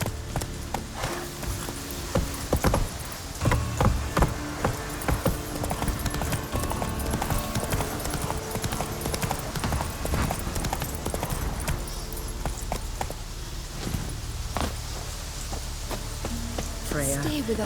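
Roach the horse gallops in The Witcher 3, a fast, continuous clip-clop of hooves on the ground that runs through the whole stretch, with a voice speaking over it at times.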